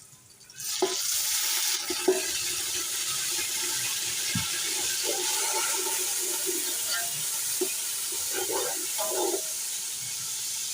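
Onions frying in a pan for potato pulao, with a sizzle that flares up as garlic water is poured in, then steady crackling, some stirring clatter and a voice speaking over it.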